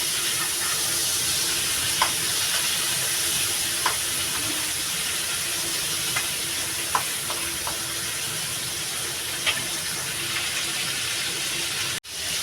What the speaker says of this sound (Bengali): চিংড়ি মাছটা একটু লাল লাল করে ভেজে নেবো